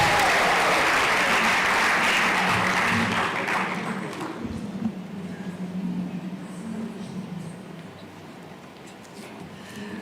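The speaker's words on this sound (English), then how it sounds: "Round of applause until she gets here." Crowd at a national science and technology exhibition applauding as a speaker returns to the stage, loud dense clapping for about four seconds that fades into a lower murmur of scattered claps and room noise.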